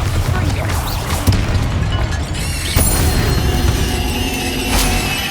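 The Bombarda blasting spell goes off in Hogwarts Legacy: booming, crashing impacts over a dense rumbling game soundscape, with a few sharp hits standing out.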